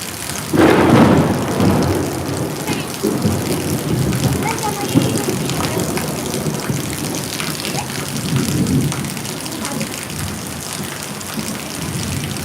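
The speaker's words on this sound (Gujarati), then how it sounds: "કડાકા ભડાકા સાથે ધોધમાર વરસાદ સુરતની અંદર પડી રહ્યો છે" Heavy rain pours steadily in Surat, India, while thunder booms and rumbles, with a loud crack near the start and rolling rumbles later.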